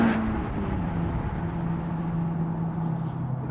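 A Honda Civic Type R accelerates, its engine note rising steadily in a strong, continuous drone heard from inside the car, loud and unbroken with no talking.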